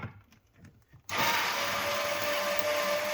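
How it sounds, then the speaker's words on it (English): A loud power tool whirs on abruptly after a second of quiet during disassembly of a KitchenAid refrigerator's freezer compartment, then keeps running steadily at full volume to the end. "we do love our power tools"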